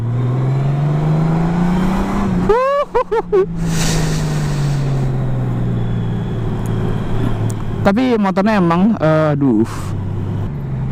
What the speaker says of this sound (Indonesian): gue coba ngegas di terowongan ya, suaranya kayak mobil, persis kayak mobil